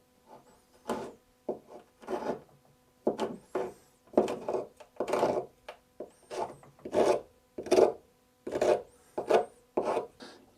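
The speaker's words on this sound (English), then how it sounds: "I'm going to rough up the back of it with a rasp" A rasp roughs up the back of a wooden stool in about a dozen steady, evenly spaced strokes. Each stroke is a close, gritty scrape with short pauses between, and no one speaks.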